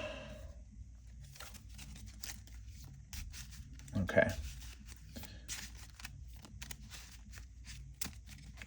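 Marvel Champions game cards being shuffled on a tabletop during a solo play session: soft, quiet riffling and brushing bursts with one louder flurry midway, under occasional talk.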